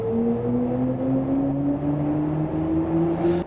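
Artificial driving sound of a BMW iX xDrive40 electric car, a smooth synthetic tone that rises steadily in pitch as the car accelerates, layered over road and tyre hum, with a brief whoosh at the end.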